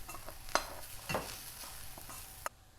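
Meat fries in a pan with a soft steady sizzle, punctuated by a few sharp scraping stirs and clinks of a utensil against the pan.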